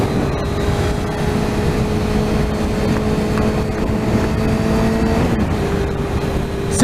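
A 1998 Suzuki GSX-R 600 motorcycle cruising around 70 mph on a dual carriageway, steady engine hum under heavy wind rush, with a brief pitch drop near the end.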